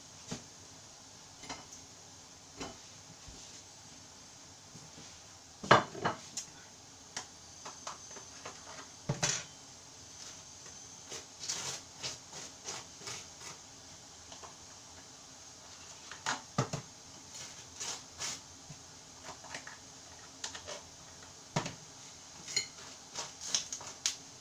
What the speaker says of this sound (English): so I'll just butter the toast.